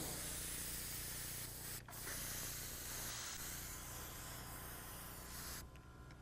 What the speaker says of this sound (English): spray that and let that clean itself a little bit more